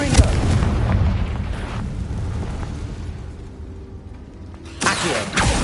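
Confringo, an explosive spell in the video game Hogwarts Legacy, goes off with a loud blast and rumbling decay, then a second sharp explosive burst near the end, all over game background without speech.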